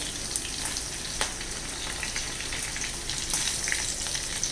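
Green chillies, sliced garlic and ginger fry with curry leaves in a clay pot, a dense close sizzle broken by occasional light stirring taps.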